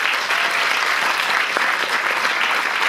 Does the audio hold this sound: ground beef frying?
no